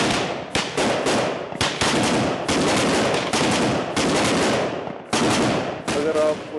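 Rapid bursts of gunfire from a para special forces commando squad in action, loud and dense shots cracking in quick succession with brief gaps, close and continuous throughout.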